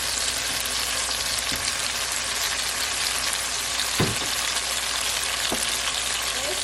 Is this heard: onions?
yes